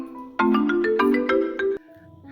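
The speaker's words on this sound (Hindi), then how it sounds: "मम्मी का फोन।" An incoming call sets off a mobile phone ringtone inside a home: a bright, repeating melodic chime pulsing in quick regular beats for over a second, then cutting off abruptly, with low room sound afterward.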